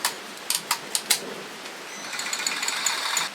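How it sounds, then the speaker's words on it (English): Cranking a paint can down in a can mixer for Jeep TJ interior paint gives several sharp mechanical clicks, then a quicker run of rattling ratchet ticks, close and fairly quiet. "So you put the paint can in there, you just crank it down,"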